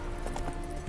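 Horse galloping in the video game The Witcher 3, a brief close burst of rhythmic hoofbeats over steady game noise.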